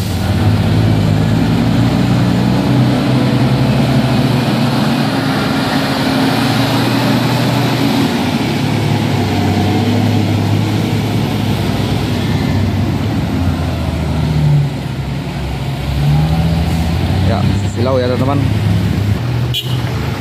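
A tanker truck's engine runs steadily in the foreground with a deep low rumble, ready to tow a stranded Java truck, while a person speaks over it for a few words.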